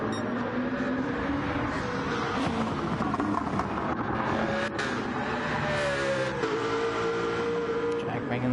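Race cars lap Trial Mountain in a Gr.2 racing video game, engines droning and revving continuously with shifting pitch, a loud layered roar under a commentator's voice.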